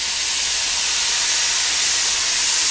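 Soy sauce hits a hot pan at medium heat while cooking pork shoulder chashu and mushrooms for ramen, giving a loud, close, steady hiss of sizzling that holds evenly throughout.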